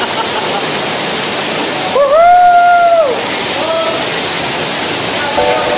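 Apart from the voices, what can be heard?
waterfall at Masai Falls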